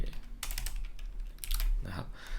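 Quick bursts of typing on a computer keyboard, clustered key clicks close to the microphone over a low steady background hum.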